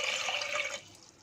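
Water poured onto sugar for a watermelon rind cake filling, a steady close splashing pour lasting under a second before cutting off into quiet.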